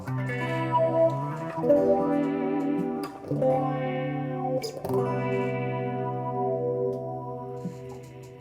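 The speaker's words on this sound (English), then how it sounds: "That's basically controlling the filter that's making this wah noise" An electric guitar through an Axe-FX III wah filter plays sustained chords, the tone sweeping up and down in slow vowel-like swells, loud and continuous with no voices.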